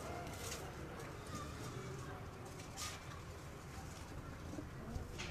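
Pigeons on a rooftop give soft, faint cooing and occasional wing flutters against a low background murmur, with someone talking quietly nearby.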